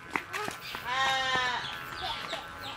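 A goat bleats in a short, wavering call nearby, with a rooster or other fowl and faint voices around it.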